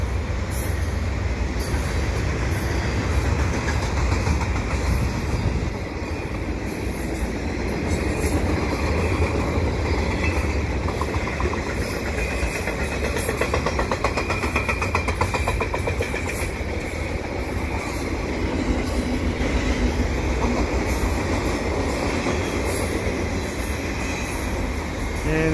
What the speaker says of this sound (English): this train is going under there.